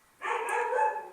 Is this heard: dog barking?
yes